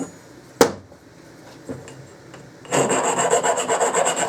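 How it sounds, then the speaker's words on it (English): A file rasps the burrs off Triumph Scrambler motorcycle fork parts in a garage: a sharp knock and a few light scrapes, then steady, close, rhythmic strokes of filing on metal with no talk. "clean them up, get all the burrs off them"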